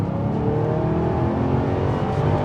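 Holden Maloo GTS-R V8 ute from 2017 accelerating hard, a loud, steady engine roar held close and alone with no talk over it.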